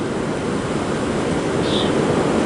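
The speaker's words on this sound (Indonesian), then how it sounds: "Ombaknya begitu besar sampai itu batu yang itu pun tertutup." Large ocean waves break on a rocky shore as a loud, continuous roar of surf without pauses.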